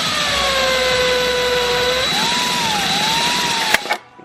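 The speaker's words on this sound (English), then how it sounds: "run the drill bit in reverse and then forward" A power drill whines steadily as it bores a hole in a carbon fiber fairing for a BMW M1000RR motorcycle, its pitch dipping and wavering mid-run before the motor stops with a sharp click and a brief rattle.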